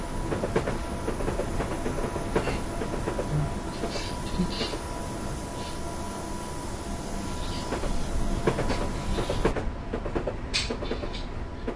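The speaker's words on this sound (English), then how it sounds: "We're just going to let our train coast there now" A train in Train Simulator 2013 rolls steadily along the rails on the London to Brighton route with a continuous rumble and faint rhythmic clatter, a brief hiss rising near the end.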